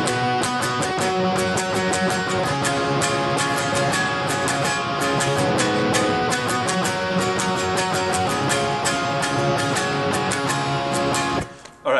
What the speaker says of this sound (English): So altogether, your intro riff is going to sound like this.